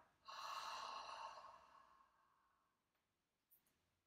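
A child breathes out deeply during a yoga breathing exercise, one long, soft exhalation that swells quickly and then trails off slowly over a few seconds, followed by a faint small sniff.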